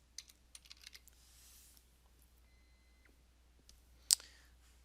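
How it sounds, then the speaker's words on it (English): Light, scattered keystrokes on a computer keyboard, faint and close in a quiet room, with a few clustered taps early on and a single sharper click near the end. "we're going to type in employees"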